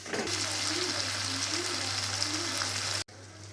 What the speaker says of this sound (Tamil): இப்போது நல்லா வதங்கி வந்துருச்சு